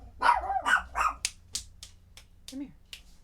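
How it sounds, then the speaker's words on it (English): A dog barks several times close by in a home, sharp yelps in quick succession, with a person speaking over and between the barks. "So, sorry about the dog."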